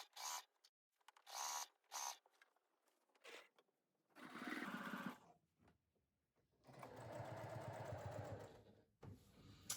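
Domestic sewing machine stitching fabric for a pouch, running in short bursts of whirring and then a longer sustained run, close and fairly quiet, with pauses between bursts.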